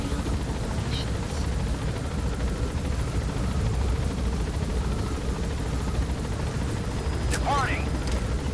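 A helicopter in a video game drones and thrums continuously as it takes off and gains altitude, loud and steady, with brief faint sounds over it.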